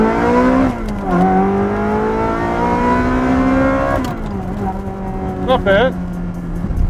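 A Ferrari 360 fitted with a valved performance exhaust, valves open, revs in steady blips: a loud, rich engine tone climbs and falls over several seconds, with a brief spoken remark near the end.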